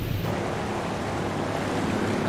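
A Wilga 35/80 floatplane taxis on water in a flight simulator game, producing a steady, dense rush of water and wind noise at even loudness, with no talking.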